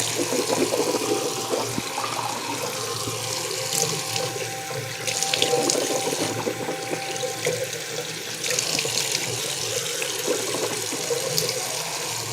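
A bathroom tap runs steadily during wudu ablutions while the mouth is rinsed, close continuous water flow with splashing bursts and swells as hands cup and spill water, no voices.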